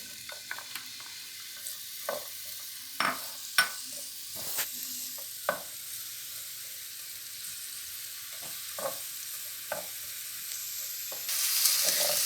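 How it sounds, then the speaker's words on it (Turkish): Soft, steady sizzling of chopped onions frying in olive oil in a pan, punctuated by scattered clicks and scrapes of stirring, fairly quiet and close. "doğramış olduğumuz soğanları birazcık zeytinyağında kavuralım"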